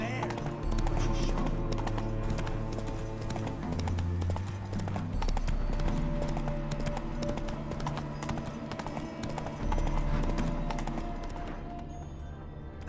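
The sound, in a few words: heavily laden horse hooves clip-clopping, The Witcher 3 video game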